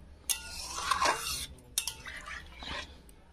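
A utensil scrapes and clinks against a pot while milk is stirred for chhena, close with a few sharper knocks over a steady low hum.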